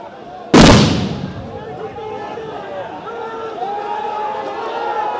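A sound grenade goes off at a street protest by government employees, one sharp loud blast that echoes and fades into crowd noise and shouting.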